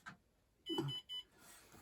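Two short electronic beeps in quick succession from a nearby Sole treadmill, against a quiet room.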